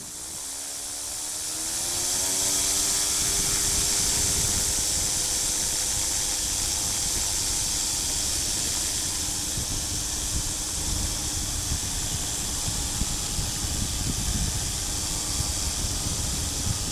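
A light aircraft, call sign Golf Mike Zulu, powers up for takeoff from an Edinburgh runway, its engine rising to a loud, steady drone with strong wind and cockpit hiss, heard close from inside.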